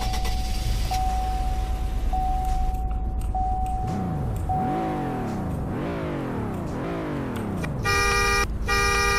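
2006 Mexico-version V6 car engine in Roblox Greenville, a game engine sound that idles low with a steady tone, then revs up and down in several rising sweeps before a short horn-like tone at the end.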